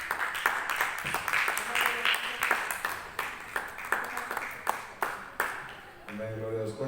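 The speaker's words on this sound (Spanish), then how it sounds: "Dale un aplauso al Señor si lo leíste fuerte." A Spanish-speaking church congregation claps during a Bible study on Acts, scattered and uneven applause that thins into separate claps before a voice comes in near the end.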